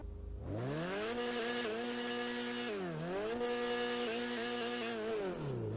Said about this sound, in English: Let's see how this thing sounds.